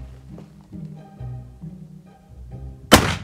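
A single sharp, loud report from a 50-90 black powder rifle cracks out near the end, following a few seconds of low, murmuring background noise.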